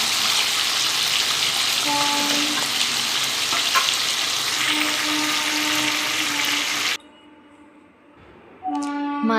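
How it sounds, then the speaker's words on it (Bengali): Pomfret fish sizzle steadily in hot oil in a pan, a loud continuous frying crackle that drops away near the end before resuming briefly, with no talking. "এইভাবে মাছগুলোকে উল্টে পাল্টে একটু ভেজে নেব।"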